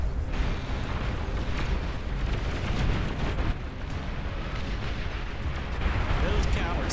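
Heavy long-range plasma cannon barrages in the real-time strategy game Beyond All Reason, a continuous rumble of booming blasts and explosions running throughout at steady loudness, with a voice talking over the battle.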